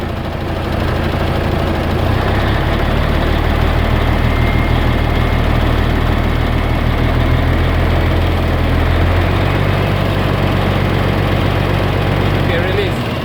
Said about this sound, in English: Let me rev the engine.